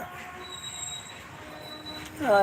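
A train's wheels squeal with thin high-pitched tones over a low rumble, then a louder screech rises sharply at the end.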